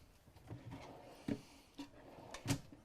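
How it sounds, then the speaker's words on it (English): Soft-close pantry drawers in a 2020 Cardinal 345RLX luxury fifth-wheel RV slide open one after another, giving a few soft wooden bumps and short slides with a quiet room between them. "then we're going to open up the drawers here as well"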